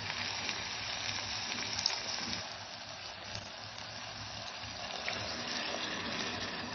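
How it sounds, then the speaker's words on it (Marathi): Hot water is poured into a pot of chicken kheema pulav, a soft continuous splashing and gurgling pour, fairly quiet and close. "आणि यात आता आपण मगाशी जे करून घेतले ते गरम पाणी टाकून घ्यायचे"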